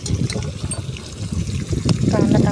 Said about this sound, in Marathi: आता कांदा टाकूया